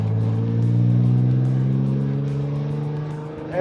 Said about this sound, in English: Let the engine get some temperature in it.